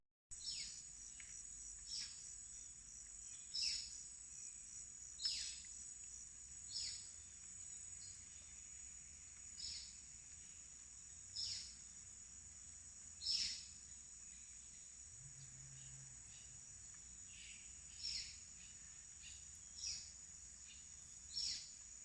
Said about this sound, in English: So beautiful to hear the sounds of the birds, the movement of the water